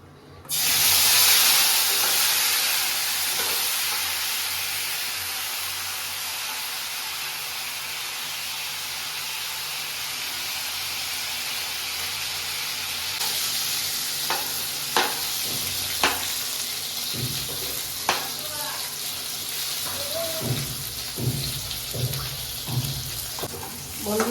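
Eggplant pieces sizzle in hot oil for a curry of bata fish with mustard and poppy seed, a steady loud frying hiss with occasional spatter pops and clicks of a utensil stirring later on.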